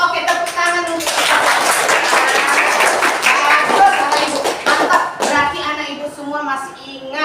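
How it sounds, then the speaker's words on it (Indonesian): Schoolchildren in an Indonesian classroom clap their hands together, with bursts of patting mixed into steady, loud young voices chanting and talking throughout. "tepuk tangan untuk bagus anak ibu, mantap"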